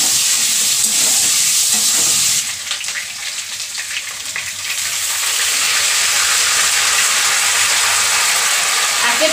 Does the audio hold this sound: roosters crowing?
no